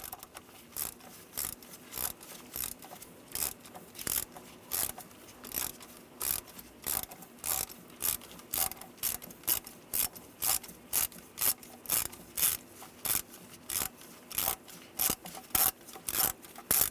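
A ratchet clicks in a steady, rapid rhythm while loosening knock sensor bolts on a 3.6L V6 Ram 1500 engine, the short bursts repeating closely throughout with no talking.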